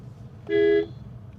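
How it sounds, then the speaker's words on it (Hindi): An aftermarket upgraded horn on a Maruti Grand Vitara Sigma gives a single short, bright honk, clear over a quiet background. "हॉर्न भी ऐसा लग रहा है आफ्टर मार्केट अपग्रेडेड है."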